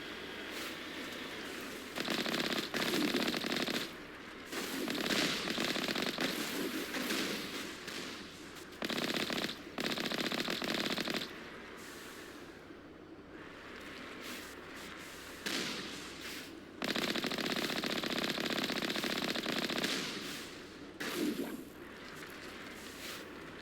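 Rapid gunfire in the Mass Effect video game during an attack on turrets, loud bursts coming in long sustained stretches separated by short pauses, with no talking.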